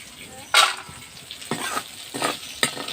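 Bitter gourd and potato fry in oil in a pan, giving bursts of sizzling as the pieces are stirred, with several loud surges and quieter crackling between them.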